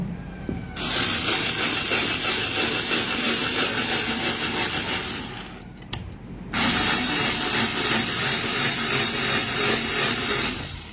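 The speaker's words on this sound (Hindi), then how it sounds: "मैं कुछ ड्रिल करके दिखाता हूँ आपको" A cordless screwdriver drills into material, its motor whirring loudly and steadily for several seconds, stopping briefly, then spinning up again for another long run.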